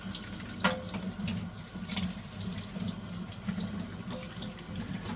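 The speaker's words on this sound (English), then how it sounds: "So now again, we just rinse it with the warm water." Warm tap water runs steadily into a sink as a 3M respirator mask is rinsed beneath it, a continuous close splashing wash with a few brief clinks.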